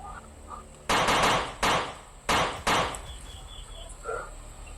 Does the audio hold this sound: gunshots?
yes